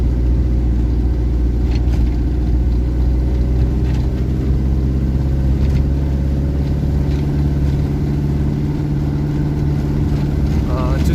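A diesel Mazda Capella 626 climbs a steep hill, its engine giving a loud, continuous low rumble heard from inside the car, with a voice talking over it.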